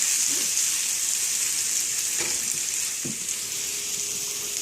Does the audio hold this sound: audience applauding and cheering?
no